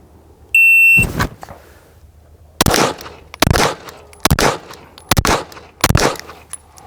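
A sharp electronic shot-timer beep, then five loud, distinct pistol shots drawn from a holster at a 25-yard range, spaced roughly evenly over about three and a half seconds with echo between them.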